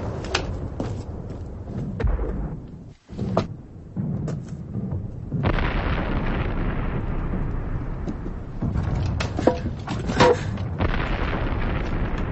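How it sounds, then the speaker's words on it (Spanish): An explosion goes off in a trench in a 1999 war film, heard as deep rumbling booms and sharp bursts with ragged breaks, followed by a sustained low roar and later cracks, loud and close with no voices. "Una explosión, sargento."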